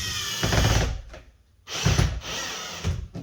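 A power drill bores into a car body while a universal side skirt is fitted, two loud whirring bursts separated by a brief pause, with a shorter spin-up at the end.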